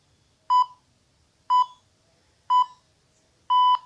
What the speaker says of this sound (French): dès que vous entendez le bip, comme celui-là